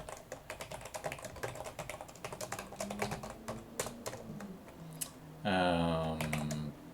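Rapid, uneven keystrokes on a computer keyboard, close and fairly quiet, with a brief burst of other sound near the end.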